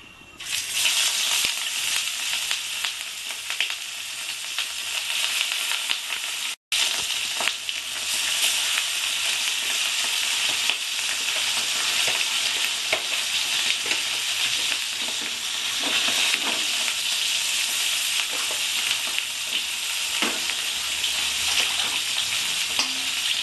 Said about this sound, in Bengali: আমি এবার মাছগুলো আস্তে করে কড়াইতে দিয়ে ভাজবো